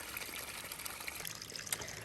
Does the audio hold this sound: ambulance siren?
no